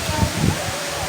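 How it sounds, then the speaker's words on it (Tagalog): Hulugan Falls, a tall waterfall in Laguna with only a small flow of water, a steady broadband rush heard nearby and fairly loud, with low rumbling bursts and possible faint voices underneath. "Ito ay Hulugan Falls."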